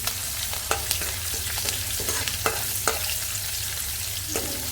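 Fenugreek (methi) roasting in a hot pan with green chillies produces a constant close sizzle, punctuated by regular light taps and scrapes of a stirring spoon.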